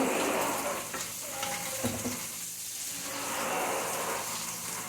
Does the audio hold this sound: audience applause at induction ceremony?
no